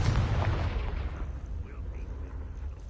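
A Confringo fire-blast spell cast in Hogwarts Legacy on PS5: a loud, broad booming burst in the first second that fades into a lower rumble and scattered game effects.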